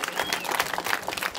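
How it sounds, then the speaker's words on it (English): Audience applauding after a solar system astronomy talk, a brief burst of scattered clapping that is fairly close and lively. "Can we get a round of applause for Marcus Chan, please?"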